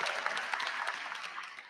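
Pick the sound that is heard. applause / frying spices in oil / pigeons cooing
applause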